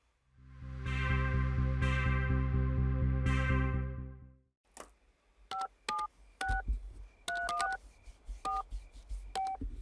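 Telephone keypad dialing tones open a TV show intro, a string of short, crisp touch-tone beeps in irregular rhythm following a long sustained musical chord, clear and close with no talking.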